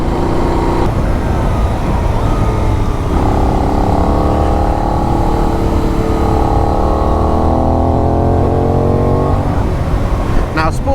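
A Benelli 752S motorcycle engine running loud and close, a deep throbbing rumble that climbs and falls in pitch through several revs, steady throughout with a brief metallic clatter at the end.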